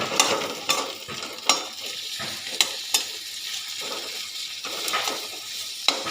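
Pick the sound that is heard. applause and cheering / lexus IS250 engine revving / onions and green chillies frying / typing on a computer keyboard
onions and green chillies frying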